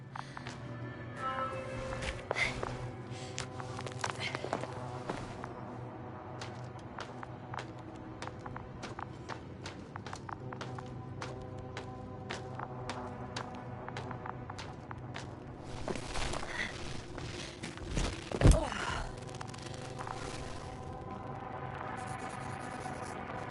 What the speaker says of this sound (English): I have a lead. His footsteps.